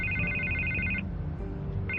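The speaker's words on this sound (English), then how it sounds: "I can't get the phone to stop ringing." A telephone rings with a rapid electronic trill, stops, then starts again, heard over a steady low background hum.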